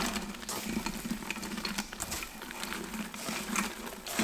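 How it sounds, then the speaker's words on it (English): Sliced onions frying in a pot as the base for French onion soup, giving a steady, dense sizzle with occasional stirring scrapes throughout, close and fairly loud, with no talking. "It's going to take a while for these to sweat down or start to caramelizing."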